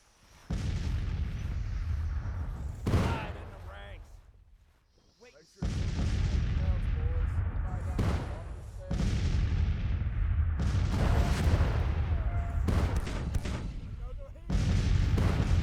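Artillery shells exploding among Civil War troops in the strategy game Grand Tactician: The Civil War, a run of heavy booms and rumbling blasts, several loud hits spaced a few seconds apart with a short lull in between.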